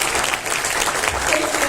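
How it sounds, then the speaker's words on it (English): An audience at a training panel breaks into applause, a dense, steady patter of many hands clapping together at close range throughout the short stretch. "Okay, round of applause."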